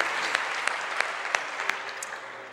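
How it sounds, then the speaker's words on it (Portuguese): A church congregation applauds during a sermon, a soft wash of clapping with a few sharper claps standing out at a steady, rhythmic pace. "Dê uma salva de palmas, fique em pé."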